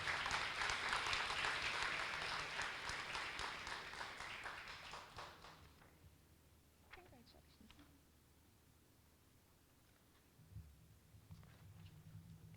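Audience applause at a high school awards day fills the first five or so seconds as loud, dense clapping from a crowd, then fades to quiet room noise with faint talk and a low hum near the end.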